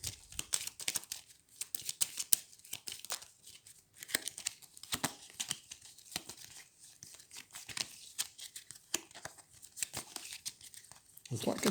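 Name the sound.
shuffling Star Realms game cards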